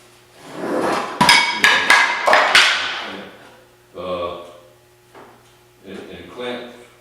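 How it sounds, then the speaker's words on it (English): Hammer blows drive nails into the lower port board of a boat, a quick run of sharp, loud strikes followed by slower spaced knocks, heard up close in a quiet workshop. "I'll nail, and then rivet, nail, rivet, etc."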